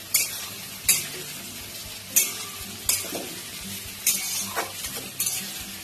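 Slit green chillies and a dried red chilli sizzling in hot oil, with a steady low fry broken by regular sharp scrapes and clinks of a spoon stirring the pan.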